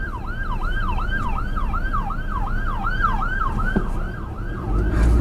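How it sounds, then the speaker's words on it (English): An emergency siren wails in a fast repeating up-and-down pattern, fairly close, over road noise and passing traffic. "I could hear the siren as I was trying to get out on the road."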